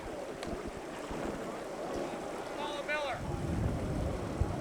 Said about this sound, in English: We've got Paula Miller out front on her Kawasaki.